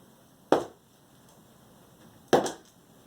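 Two sharp percussive thwacks, about two seconds apart, each with a short scraping tail, heard close against a quiet background.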